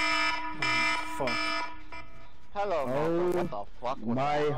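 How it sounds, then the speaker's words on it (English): A phone alarm rings during a livestream of Dead by Daylight, repeating electronic tones at the start before someone speaks over the end. "That was my alarm."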